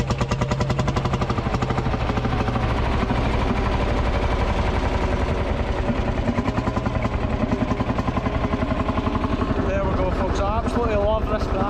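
A vintage tractor engine, started by firing a shotgun cartridge, runs at the Kirriemuir Show in Scotland with a loud, steady rapid chugging beat throughout, and voices talk over it near the end.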